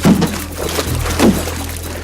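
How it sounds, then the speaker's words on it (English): A big female caiman lured into nets thrashes in the water, giving two loud, close splashing surges about a second apart over a continuous churning wash, with no talking. "a patch of water begins to boil with activity"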